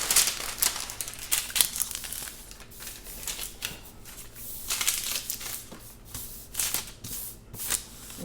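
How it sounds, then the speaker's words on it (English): Greaseproof paper being placed into a baking pan for shortbread cookies, close crinkling and rustling in irregular bursts, quiet and without talk. "Then I'm going to put the greaseproof paper."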